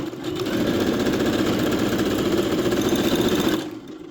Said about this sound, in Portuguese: Eu vou vir fazendo a costurinha reta